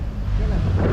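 Gusting sea wind buffets a microphone out on the water at Bagan Lalang during a kayak fishing trip, a steady low rumble that swells slightly toward the end, with faint voices underneath.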